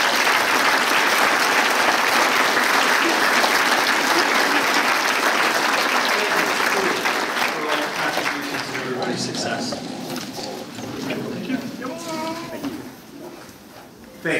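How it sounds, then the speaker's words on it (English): Loud, sustained audience applause fills a 2019 GED and HSED graduation ceremony at Western Technical College, with dense clapping from a large crowd that thins and softens toward the end. "And can we give them a round of applause?"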